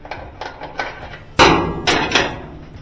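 Screwdriver prying a switch keeper off an Amana/Whirlpool dryer motor switch, with a few light metallic taps followed by a sharp, loud snap and two more clacks of plastic and metal close by.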